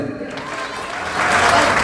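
An audience at a function bursts into applause, starting as scattered clapping and swelling into a fuller, louder round of claps near the end.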